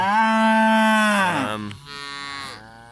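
Cow on a drought-stricken farm lowing loudly nearby, one long deep moo that slides downward and then a second shorter call, with no talk over it.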